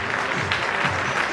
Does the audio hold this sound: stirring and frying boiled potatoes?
no